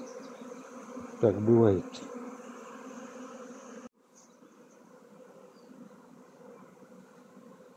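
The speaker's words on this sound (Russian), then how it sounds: "Сидят вон, вентилируют крылышками." A small honeybee swarm, roughly half a kilogram, settles at a neighbouring hive and fans its wings there. A short, loud, close buzz rises, then a low steady hum continues, and a voice speaks briefly.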